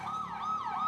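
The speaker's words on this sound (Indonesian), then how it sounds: "Ada ambulan." An ambulance siren wails in smooth rising and falling sweeps, clear and fairly close, with no talking over it.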